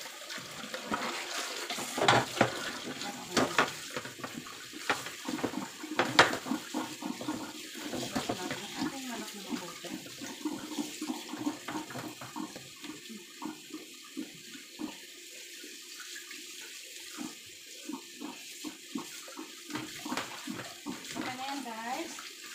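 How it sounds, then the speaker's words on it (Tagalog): Water runs steadily from a faucet into a sink while chicken and soup ingredients are washed in a Hong Kong kitchen. The splashing stays close and continuous, with clattering handling under it, and a voice talks now and then. "Siyempre, hugasan na rin natin ang ating mga rekalo."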